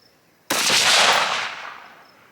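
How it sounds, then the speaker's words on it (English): A single rifle gunshot fired beside a Labradar LX chronograph outdoors, one sharp, loud, close crack with a broad blast that rolls off into a fading echo over about two seconds, with no talking. "I'm going to set it right beside the gun here. Fire a shot."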